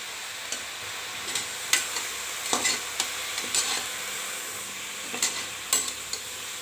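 Spinach with turmeric fries in oil, a soft continuous sizzle broken by scattered clicks and scrapes of a spoon stirring against the pan.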